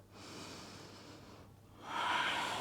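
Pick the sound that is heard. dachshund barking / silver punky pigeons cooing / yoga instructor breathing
yoga instructor breathing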